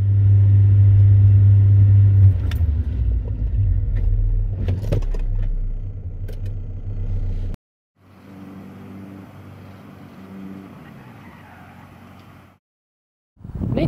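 A car in a 60-to-0 braking test, recorded both in Forza Horizon 5 and in real life: a loud, steady engine and road rumble with a low drone, cutting out abruptly, then a quieter stretch of similar vehicle noise that also stops dead.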